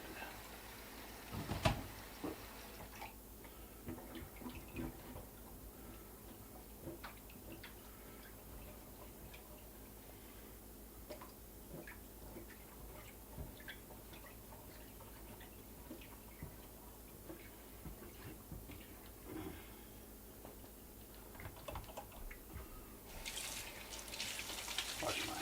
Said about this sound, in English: we want to make sure that we're going to rinse off our brisket really, really well